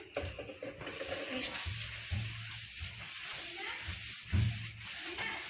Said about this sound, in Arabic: عندنا هنا بوطاجي غادي نمسحو بالخل